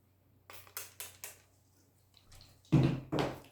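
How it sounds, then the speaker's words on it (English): Several short spritzes of water from a spray bottle onto a synthetic wig, in quick bursts of two or three pumps, with a pause before two louder, closer sprays. "you're going to have to spritz some water"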